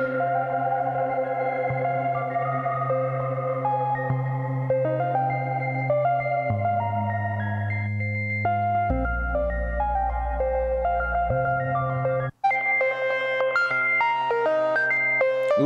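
Electric guitar through a Ghost reverb pedal, chords and single notes blooming into a long, eerie reverb tail with a chorus-like shimmer, loud and close, with a brief dropout near the end and no talking.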